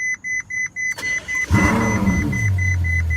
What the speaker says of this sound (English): Yeah, it's a V12. It sounds great.